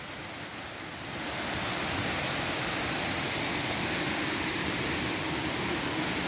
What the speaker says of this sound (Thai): เสียงน้ำตกมาแต่ไกลเลย